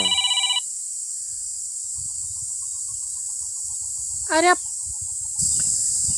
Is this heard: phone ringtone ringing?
yes